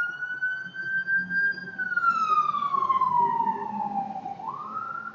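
A police or ambulance siren sweeps slowly down in pitch then jumps back up, moderately loud over a low background rumble.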